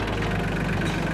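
A vehicle engine idles steadily with a low, even rumble, close and continuous, with no voices.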